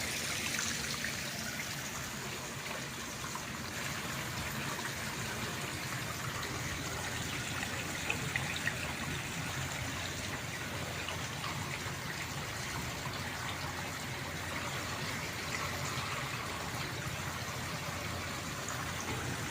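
Water drains steadily from an 80-gallon Bradford water heater tank, a continuous trickling gush that holds level and close throughout with no talking.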